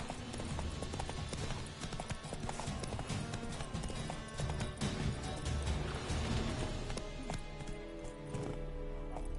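Hoofbeats of a galloping horse in the Witcher 3 video game, a fast rhythmic clip-clop rolling continuously and close, layered with game sound effects.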